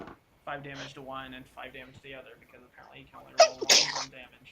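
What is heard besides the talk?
sneeze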